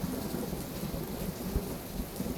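A thunderstorm with steady heavy rain and a low, rolling rumble of distant thunder, a dense wash of sound with no voices.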